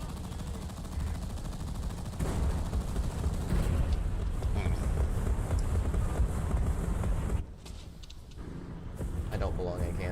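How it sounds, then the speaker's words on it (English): Artillery bombardment in War Thunder rolls as a dense, continuous rumble of blasts and gunfire close up, briefly thinning near the end before resuming, with a voice talking over it. "Let's drop all the artillery up there."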